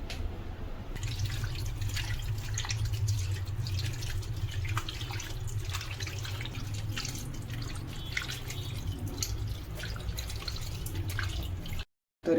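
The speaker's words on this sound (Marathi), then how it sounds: "आता स्वच्छ धुवून घेऊया आपण" Cleaned prawns rinsed under a running tap, a steady broadband splash and trickle of water lasting throughout, fairly close and even, with no talking, cutting off briefly near the end.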